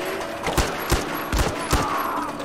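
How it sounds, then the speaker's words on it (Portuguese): Gunfire in the video game Far Cry 4: four sharp shots ring out at uneven intervals, fairly loud, over a continuous background rumble. "Veio um tiro aqui."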